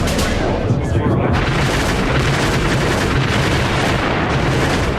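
Heavy, continuous artillery barrage from the Soviet assault on Berlin, a dense roar of booms and blasts running unbroken throughout at close range, with a voice speaking over it.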